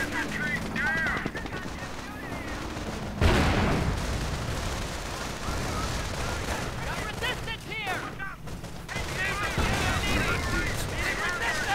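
Rapid machine-gun bursts and gunfire crackle through a World War II strategy game battle involving paratrooper squads, riflemen and a Pershing tank, with a sharp explosion near the third second, all continuous and dense beneath a commentator's voice.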